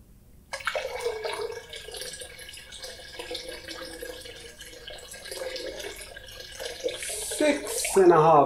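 Water pours steadily into a bucket for an air pressure ice bucket challenge, a continuous splashing stream that grows slightly louder toward the end, with a voice breaking in near the close.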